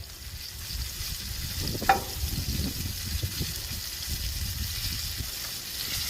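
A chicken-fried hamburger patty set down in shallow oil on a Blackstone griddle starts a sharp close sizzle that settles into a steady bubbling fry.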